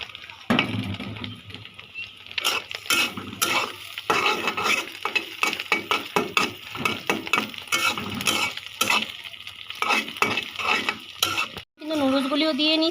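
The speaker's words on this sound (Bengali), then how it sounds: "মাংসটাকে একটু ভেজে নিব।" Meat frying in a home kitchen pan for a holiday breakfast, with steady sizzling, stirring scrapes and clinks of a utensil against the pan, loud and close throughout.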